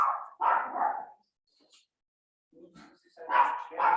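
A dog barks inside a house: two quick barks, a short quiet pause, then a few softer sounds followed by two more sharp barks. The barks are close and clear.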